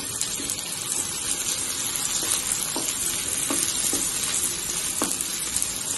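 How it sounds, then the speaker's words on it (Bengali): Onions sizzle and fry in hot oil in a kadai, a steady hiss with occasional stirring clinks and scrapes, close up, with no talk. "কড়াইতে তেল দেওয়া হয়েছে দেখো, এবার পেঁয়াজ দেওয়া হচ্ছে"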